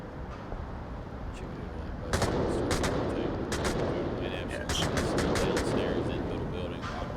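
Shots ring out in a tactical multiplayer shooter match, a cluster of sharp cracks arriving near the two-second mark and again later over a steady ambient rumble, with a voice talking intermittently throughout.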